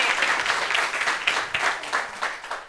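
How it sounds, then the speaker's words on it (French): An audience at a gathering applauding, steady close clapping from a small crowd lasting a few seconds. "Est-ce qu'on peut applaudir Aïcha, s'il vous plaît?"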